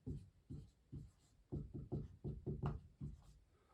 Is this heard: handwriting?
yes